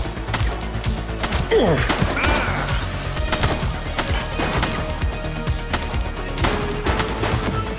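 Gunfire in a police story video game as a suspect shoots, a dense run of sharp cracks and crashing impacts over roughly eight seconds, loud and close, with scattered bangs throughout.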